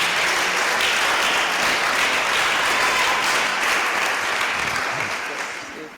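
A church congregation at a Sunday worship service breaks into sustained, dense applause, loud and close, holding steady before fading out at the end.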